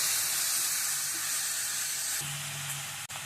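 Mint and coriander sautéing in a pan, giving a steady soft sizzle and hiss at close range with a faint stirring scrape.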